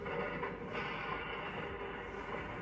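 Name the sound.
freight train cars and diesel engine in a rail yard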